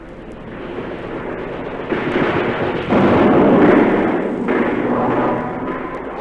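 Artillery shells bursting on Shaggy Ridge in wartime, with a continuous rumbling roar of distant blasts that swells louder after the first two seconds and holds heavy through the middle before easing slightly.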